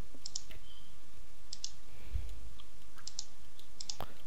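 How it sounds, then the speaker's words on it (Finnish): A computer mouse clicks loudly during Minecraft, sharp paired clicks repeating at roughly one-and-a-half-second intervals, close and alone over a faint background hum. "Sun klikkausääni kuuluu hirveen lujasti."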